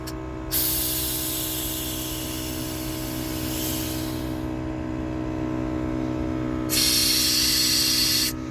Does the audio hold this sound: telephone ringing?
no